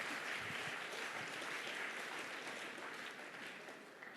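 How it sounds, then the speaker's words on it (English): An audience claps together at a talk during a world conference, a steady, fairly faint wash of applause holding evenly throughout and fading slightly near the end. "At least you know clapping."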